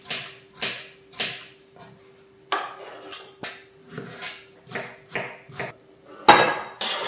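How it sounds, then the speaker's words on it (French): A knife chops a cucumber into small cubes on a board, giving a run of about a dozen sharp, close taps in an uneven rhythm, with a louder clatter at the end and no talking. "on va quand même venir le couper en petits cubes, parce que c'est meilleur"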